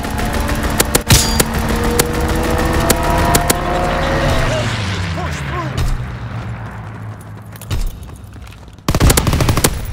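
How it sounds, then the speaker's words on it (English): Machine gun fire from a fighter pilot strafing run in Call of Duty WW2 multiplayer, rapid loud bursts of gunfire with a passing aircraft sweep and roar, ending in a heavy final blast. "Fighter pilot inbound, strafing the target."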